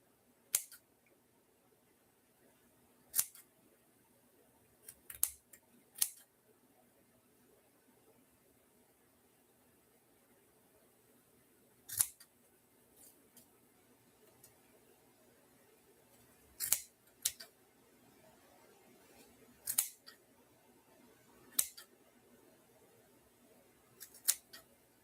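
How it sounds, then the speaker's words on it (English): Scissors snip through loops of chunky yarn in sparse, sharp single cuts spaced a few seconds apart, close and crisp against an otherwise quiet room. "what I'm going to do is cut all of these loops"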